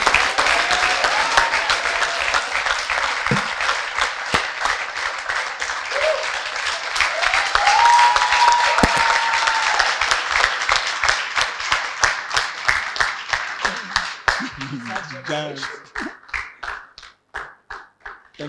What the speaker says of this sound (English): Please help me thank and give a round of applause for Wole Oyeni.